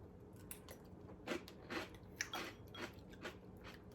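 Crunchy pork rinds being chewed alongside soup, with quiet, close crackling crunches coming in uneven bursts over a soft background and no talking.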